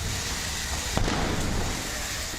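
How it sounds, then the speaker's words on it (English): Propane tanks exploding downtown: a loud, sharp blast rings out amid a constant roar of wide, heavy noise, its echo fading into the steady background rumble. "Explosions echoed through the downtown east side"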